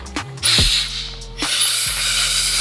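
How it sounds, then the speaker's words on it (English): Air blown in hissing bursts to clear hair from an X-Ergos hair clipper bracket, loud and close, mixed with mechanical rattling and ratcheting. "Now I'm gonna blow some of this hair off."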